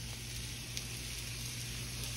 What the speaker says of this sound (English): Now, we're going to add onions to this, y'all. Put our onions in there.